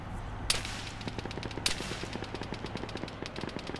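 Rapid automatic gunfire in the shooter game Arma 3, a dense stream of sharp close cracks with two louder heavy bangs standing out early on.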